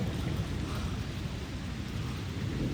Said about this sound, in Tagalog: Na makalumping og sakyanan ning barok na dagko kang yelo.